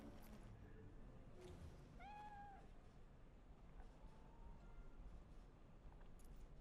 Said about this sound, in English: You can pet the cat if you want to.